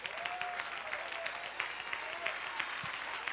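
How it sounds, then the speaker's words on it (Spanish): A church congregation claps steadily at a service, a dense, continuous wash of hands with faint cheers and voices mixed in, heard from a moderate distance at low level. "Dale un aplauso al Señor."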